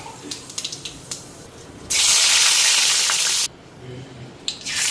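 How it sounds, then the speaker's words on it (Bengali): Cumin seeds and a bay leaf hit hot oil in a pan for shahi paneer, setting off a sudden loud, broadband sizzle that lasts about a second and a half before settling into quieter crackles. "এদিকে একটু জিরা ফোড়ন আর তেজপাতা দিয়ে দিই"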